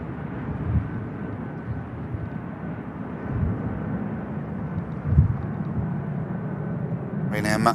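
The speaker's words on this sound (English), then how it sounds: "Ryanair Max next to touchdown. Aircraft coming in from Krakow." A Ryanair Boeing 737 Max touching down at Manchester Airport after arriving from Krakow: a steady low engine rumble with a couple of louder swells, heard from a distance, with a brief voice at the very end.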